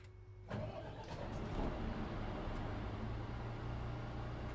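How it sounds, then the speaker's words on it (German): A bus engine in the video game OMSI 2 cranks and catches at about half a second, then settles into a steady, low, rumbling idle that continues to the end. "wenn ich den Motor starte"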